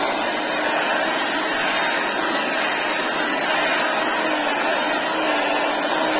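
An electric hand mixer runs steadily at full power, beating homemade powdered soap made from used cooking oil; a loud, continuous whirring drone with no breaks or voices.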